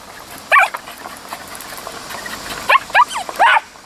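A stray dog on a country road gives a few sharp barks, one early and then a quick cluster of three or four near the end, over steady engine rumble from a moving vehicle.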